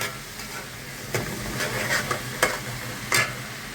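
About four sliced onions frying in a spoonful of ghee in a pan, a steady close sizzle broken by a few scraping stir strokes.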